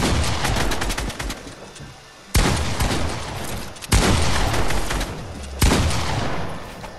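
Rapid gunfire in the video game Fortnite, sounded as several loud bursts of fast repeated shots, each starting sharply and trailing off, with brief gaps between them.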